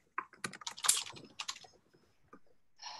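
Rapid clattering keystrokes on a computer keyboard during an online community committee meeting, coming in quick bursts with brief pauses, fairly close and without speech over it.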